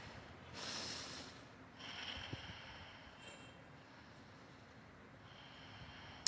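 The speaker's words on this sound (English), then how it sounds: "Take a breath here" Slow, deep breaths taken during a yoga flow, a soft, drawn-out inhale and exhale heard close and quiet, with a long airy fade between them.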